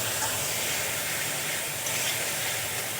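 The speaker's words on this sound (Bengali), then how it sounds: "রসুন পেঁয়াজ বাটা আমি আরও কিছুক্ষণ ভালো করে ভেজে নেব যতক্ষণ না কাঁচা গন্ধটা যাচ্ছে ততক্ষণ ভেজে নিতে হবে" Garlic and onion paste frying in a pan for an egg poach curry, a loud steady sizzle and hiss that carries on unbroken, with no talk.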